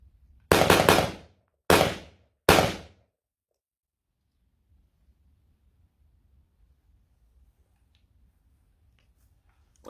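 Three sharp, loud pistol shots from a shooting drill aimed at centre, head and pelvis, fired in quick succession over about two seconds, then near silence with faint outdoor rumble.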